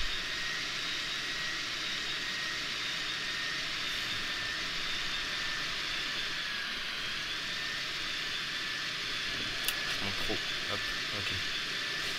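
A plane's engine in GTA San Andreas drones steadily and loudly through the whole stretch, an even hiss-laden roar with a few brief clicks near the end.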